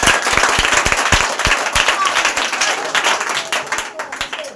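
An audience claps loudly for a student's exam result, a dense burst of applause from a crowd indoors that fills the whole stretch before thinning at the end.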